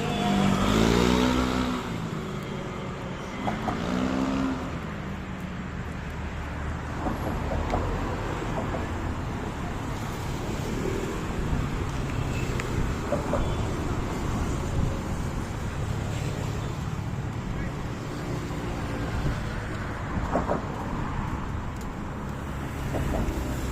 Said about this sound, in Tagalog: Ang daming sasakyan. Dumadaan.